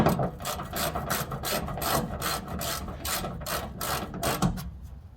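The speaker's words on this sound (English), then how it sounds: "Just screw this in as tight as it will go." A bolt is tightened into a fuel tank during a JB Weld SteelStik repair, giving close, steady ratcheting clicks and rasping turns that repeat in quick bursts with no talk.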